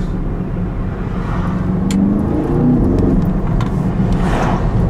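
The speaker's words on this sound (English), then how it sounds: "we just give full gas" A 680 hp Porsche Panamera Turbo S with a PDK gearbox and electric assist accelerates hard at full throttle, heard from inside as a loud, steady engine roar that rises slightly over heavy road and wind rumble.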